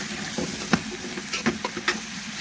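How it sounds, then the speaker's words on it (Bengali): Onion stalks with egg sizzle in a pan, a soft steady frying hiss broken by a few brief stirring scrapes and clinks, close by and fairly quiet. "পেঁয়াজের কলিগুলো ভাজি হয়ে আসছে, ডিম দিয়ে দিলাম"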